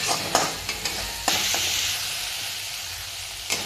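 Green chilli and ginger masala stirred in a pan for bhindi, a continuous close sizzle with several quick spoon scrapes early on and one more near the end, no voices.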